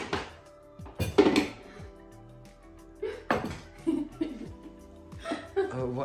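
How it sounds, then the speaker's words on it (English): A glass jar tumbles out in a home kitchen, giving a few sharp clattering knocks near 1 s and 3 s, with laughter and chatter around it. "The jar fell out."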